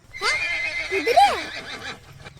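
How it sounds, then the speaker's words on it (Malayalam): A horse gives one loud, close whinny lasting about two seconds. The call rises and then falls in pitch. There is no talking. "എടാ ജോപ്പ നമ്മുടെ വീട്ടിലെ കുതിരക്കേ രാവിലെ ചോറ് കൊടുത്തായിരുന്നോ"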